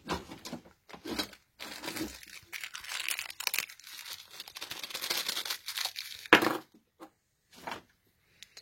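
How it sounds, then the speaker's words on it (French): Sandpaper rubbing over the breaker points of a Peugeot 103 moped's ignition, a run of dry, gritty scratching strokes in bursts with short pauses, close and fairly loud. "vous passez votre rupteur au papier de verre pour qu'il soit nickel."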